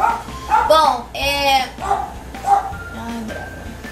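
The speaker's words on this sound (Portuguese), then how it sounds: "Me desculpem o latido do meu cachorro" A dog barks a few times in quick bursts, close by and fairly loud, mixed in with a person talking.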